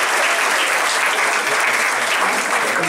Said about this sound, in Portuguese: Gente, palmas para ela.